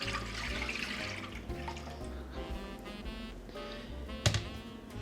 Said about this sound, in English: what we're going to do is we're going to add our cold milk